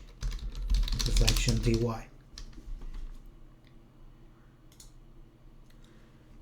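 Someone types a name quickly on a computer keyboard, a close burst of key clicks lasting about two seconds, followed by quieter stray clicks.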